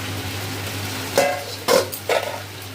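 Three scraping stirs of a spoon through masala being sautéed in a pan for kosha mangsho, brief and separate over a low steady hum.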